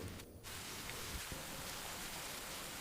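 Steady rain falls as a constant soft hiss of drops, fairly faint and even throughout, with no voices over it.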